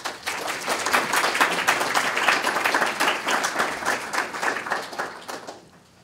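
An audience claps to welcome Dr. Ho to the stage, a dense, steady round of applause from a room full of people that holds for several seconds and then tapers off toward silence.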